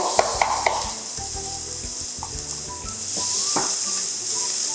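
Chopped onion hitting smoking-hot oil in a pan for a split pea veggie burger, setting off a steady, bright sizzle with a few close clinks and scrapes of a utensil against the pan, swelling slightly louder toward the end.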